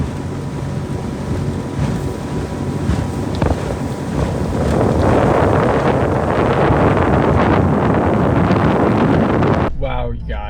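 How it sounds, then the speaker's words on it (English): A fishing boat runs back over the water. Wind buffets the microphone and spray and engine noise build into a loud, continuous roar that swells midway, then cuts off abruptly near the end. "let's go ahead and try to make this boat ride back"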